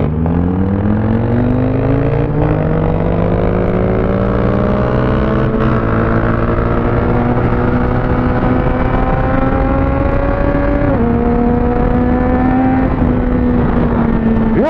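A motorcycle accelerates hard and close, its engine note climbing steadily for about eleven seconds before a quick shift and a further climb, loud and continuous with no voices.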